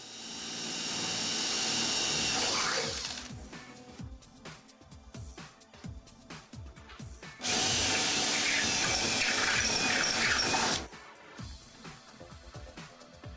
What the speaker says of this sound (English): Drill pilot hole.